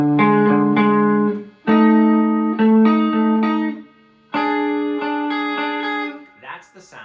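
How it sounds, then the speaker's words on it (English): A tritone interval is plucked on guitar several times, each pair of notes ringing and decaying before the next strike, up close and fairly loud, followed by a brief bit of talking at the end. "That's the sound of a tritone."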